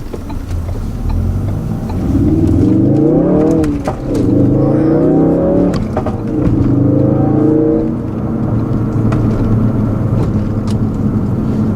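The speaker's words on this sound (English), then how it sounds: "This thing pulls hard to redline." A 2016 Ford Focus RS engine revs hard toward redline, its tone climbing in loud, close pulls through several gear-like bursts, with a steady rumble underneath and no talking.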